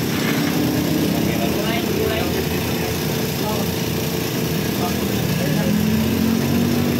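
A Bajaj Pulsar NS160 FI motorcycle engine runs steadily with a high, buzzy drone and slight pitch changes as the gears shift, while a voice talks faintly over it.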